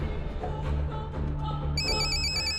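A telephone ringtone rings in a Hindi film scene, a steady electronic tone over a background hum that turns into a sharper repeating high trill near the end.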